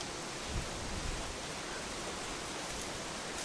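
A DIY pressurised solar shower for a Volkswagen camper, pumped to 15 pounds, sprays water steadily from its jet nozzle in a continuous close hiss with no pauses.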